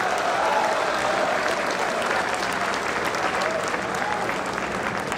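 A ceremony audience gives sustained, loud applause for former Indian President Pranab Mukherjee at a university laureate award event, a dense unbroken wash of clapping that holds evenly throughout.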